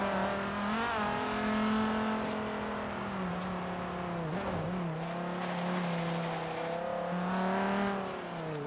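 Car engine in the racing video game Forza Horizon 3, a steady loud drone with rising and falling pitch as it revs and shifts gears, continuous throughout with no talking.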